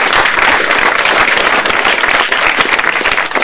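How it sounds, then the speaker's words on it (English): An audience at the 2014 ModelOFF Financial Modeling World Championship awards ceremony applauds. The clapping is dense, loud and sustained, and it runs evenly for the whole stretch without any speech. "So just a big round of applause to have Bill here flying."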